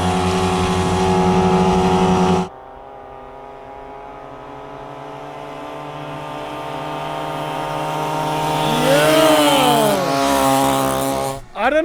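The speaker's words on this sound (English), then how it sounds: "The sound when multiple of these pit bikes are running at the same time is magical." Several upgraded Temu pit bikes rev and race together, a loud harmonic engine drone that cuts briefly, then builds steadily with rising pitch sweeps as the bikes accelerate past, ending abruptly.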